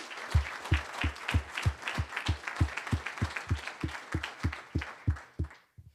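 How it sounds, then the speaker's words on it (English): Rhythmic clapping from an audience at a Capital Factory event, a steady pulse of sharp claps, roughly three per second, over a softer wash of scattered applause that fades out at the end. "please give the Capital Factory folks a big round of applause"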